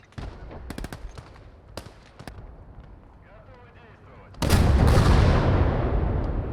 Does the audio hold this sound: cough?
no